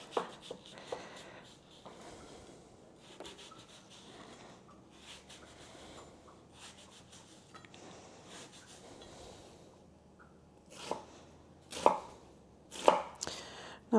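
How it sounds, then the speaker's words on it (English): Knife dicing half an onion on a cutting board during breakfast prep, quiet rhythmic taps and slicing strokes with a few louder chops near the end, close and alone. "So half of this onion will get diced and the other half will just be cut for the caramelized onions."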